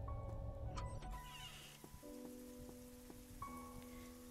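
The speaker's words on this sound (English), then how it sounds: "I'm sorry I let you stand in the rain" Rain falls in the video game Fausts Alptraum as a faint, steady hiss running beneath sustained, chiming electronic music notes.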